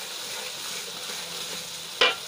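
Chicken being stirred as it fries in a pan, with a steady broadband sizzle throughout and a single sharper scrape or clank of the utensil near the end.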